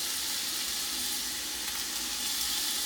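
Minced garlic sizzles steadily in a chicken soup pot, a continuous quiet frying hiss with no talk over it.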